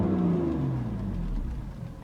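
A 2017 BMW M4 Convertible (F83) engine in Sport Plus mode revs loud and close, a deep throaty roar that drops in pitch as it settles, with no voices.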